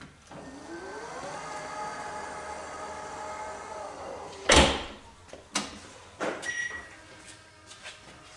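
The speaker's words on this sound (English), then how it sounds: "if I bring the key up close to it, the latch will work" A 2023 Volvo XC90 tailgate with the key held nearby: a faint electric whir rises at first, then a sharp mechanical clunk of the latch releasing, followed by several lighter knocks and rattles, close and without talk.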